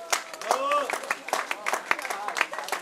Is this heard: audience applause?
yes